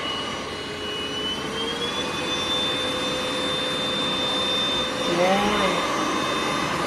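A Deerma cordless vacuum cleaner runs close by for a steady, high-pitched whine whose pitch climbs early on, then holds, with a brief shift in tone near the end as it is used on small spaces.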